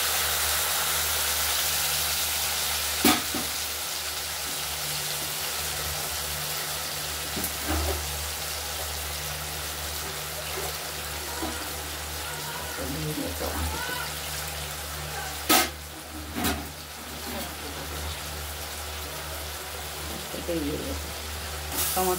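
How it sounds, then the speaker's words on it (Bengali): Potatoes and spices frying in oil in a pan for a katla fish curry give a steady, close hiss of sizzling, with a low hum beneath and occasional sharp clicks and clatters from stirring. "আলুটা ভাজা হোক, তারপরে মশলা দেওয়া"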